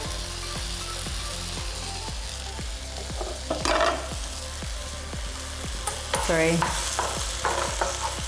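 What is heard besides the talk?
shiitake mushrooms with rosemary frying in a pan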